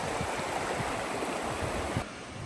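Dense, steady rushing of a river flowing, loud and close, with a constant broadband roar that drops slightly in level near the end.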